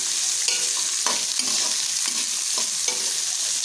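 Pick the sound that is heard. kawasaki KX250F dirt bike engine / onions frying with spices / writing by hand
onions frying with spices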